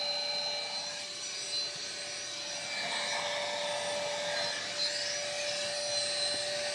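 A Beldray Cordless Quick Vac Lite vacuum cleaner running steadily with a thin whining motor tone over airy suction hiss, fairly quiet and close, without speech.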